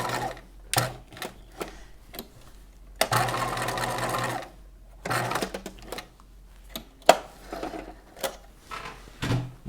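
A sewing machine stitches over a bodice seam to reinforce it, running in several short bursts and one longer steady run of rapid needle clatter, close and fairly loud, with brief pauses and small handling clicks between the runs.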